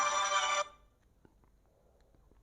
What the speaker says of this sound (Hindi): बहुत गलत टाइम पे फोन आया